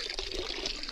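Water flows steadily from a mountain fountain in the Picos de Europa, a continuous close splashing rush with no pauses and no voices.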